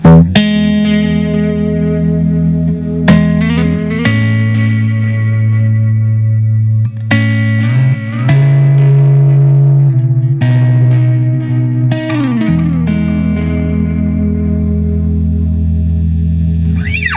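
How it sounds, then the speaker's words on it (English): A PRS Hollowbody piezo electric guitar through an overdrive pedal, with an effects-heavy tone, plays sustained chords and notes, loud and continuous, with occasional strummed attacks. "Put in a little bit of overdrive"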